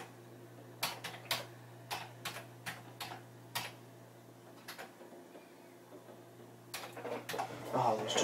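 Keys clacking on a Commodore computer keyboard, isolated sharp taps spaced irregularly at first, then a quicker burst near the end, quiet over a steady electrical hum.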